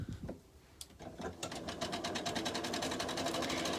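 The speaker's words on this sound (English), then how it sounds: "And I'm going to sew straight down that line, just like that." A sewing machine stitches quilt blocks for a table runner, starting with a few separate needle strokes that settle into a fast, even run of stitches at close range.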